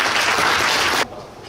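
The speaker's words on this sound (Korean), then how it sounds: "힘찬 박수로 축하해 주시고." Dense, loud applause from a hall full of union delegates at a meeting, a steady roar of clapping that cuts off abruptly near the end.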